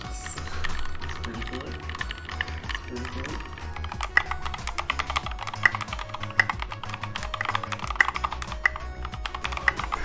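Rapid typing on a mechanical computer keyboard in a switch sound test, with dense, continuous key clacks and sharper snapping strikes near the microphone, running steadily throughout.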